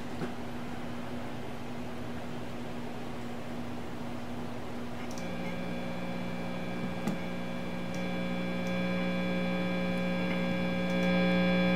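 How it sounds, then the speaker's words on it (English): A steady electrical hum drones throughout, joined midway by a louder buzzing tone that keeps growing slightly stronger, with a faint click or two. "the hum is actually much louder"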